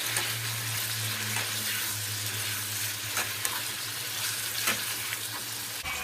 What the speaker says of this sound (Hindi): अब इसको इतना भूनेंगे कि ऑयल ऊपर आ जाए और टमाटर पेस्ट अच्छा सा पक जाए।